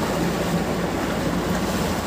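Houseboat cruising on the backwaters of Alappuzha, Kerala, with steady broadband water and wind rush throughout, continuous and fairly loud, no talking.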